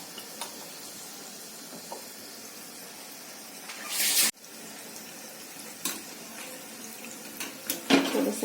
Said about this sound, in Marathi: बटाटा वडा तळून घ्यायचा तेलामध्ये